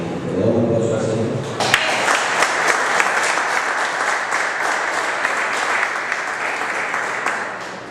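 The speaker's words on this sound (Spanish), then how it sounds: "¿Le damos un aplauso al Señor?" A church congregation bursts into loud, sustained applause after a short stretch of someone speaking. The clapping is dense and steady and holds at full strength to the end.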